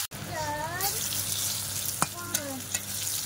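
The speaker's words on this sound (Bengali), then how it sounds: "এই যে এবারে পটলগুলো ভেজে নেব।" Slices of pointed gourd (potol) sizzle in hot oil in a home kitchen, a bright frying hiss stirred with a few clinks of a spatula against the pan, with some faint birdlike chirps in the background.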